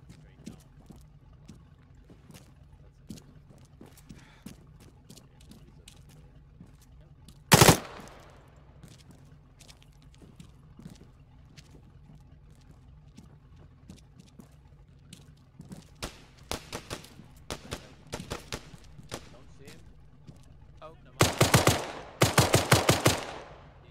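Gunfire in a boarding-team combat game crackles out as scattered distant shots, one loud close blast, and then dense rapid bursts near the end, while players talk over the action.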